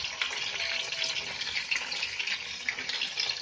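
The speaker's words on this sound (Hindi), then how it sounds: "और इसे अच्छे से गोल्डन फ्राई करेंगे" Potatoes seasoned with salt and turmeric fry for dum aloo, giving a dense, even crackling sizzle, close and steady throughout with no talk.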